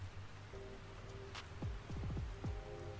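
Recorded light rain plays softly in the background as a steady, even wash of hiss that continues unbroken from start to finish.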